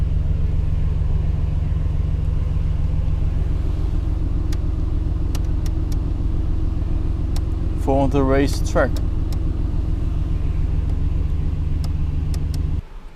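A Mercedes-AMG GT R Pro's engine idles with a steady, deep rumble throughout, while someone talks over it near the middle and a few faint clicks sound before it cuts off at the end.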